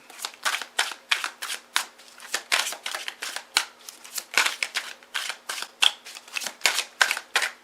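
Playing cards shuffled and drawn for a four-card tarot-style reading, a quick run of crisp riffling flicks and slaps repeating steadily and close, with no talking.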